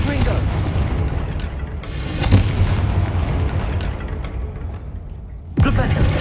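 A Confringo fire blast spell explodes in Hogwarts Legacy, heard as loud rumbling booms, with a sharp blast near the start and another burst near the end, under a continuous low roar of game sound.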